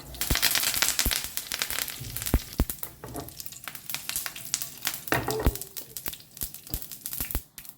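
Mustard seeds and curry leaves with asafoetida sizzle and crackle in hot oil for a Goan vatana usal, a dense, continuous spitting fry with sharp pops scattered throughout, close up and with no talking.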